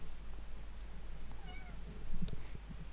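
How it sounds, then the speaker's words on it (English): A squeaky cat gives a single short, high meow at mid-volume over a low steady hum, heard alone without talk. "that squeaky cat."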